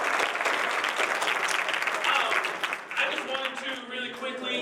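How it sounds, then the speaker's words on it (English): An audience at a student-versus-faculty poetry slam breaks into dense, sustained clapping that stays loud for several seconds, then thins and fades as a voice begins over it. "Can we give a round of applause to the Brainy Acts Poetry Society for putting this event on?"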